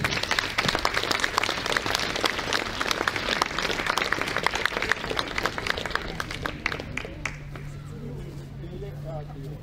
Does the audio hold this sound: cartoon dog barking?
no